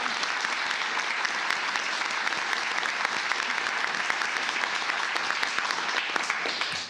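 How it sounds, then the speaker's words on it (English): Steady, dense applause from a room full of people at a county commissioners court meeting, clapping continuously and fairly loud in thanks to Judge Whitley, with no voices breaking through. "By round of applause, let's give one last thank you to Judge Whitley, Commissioner Johnson"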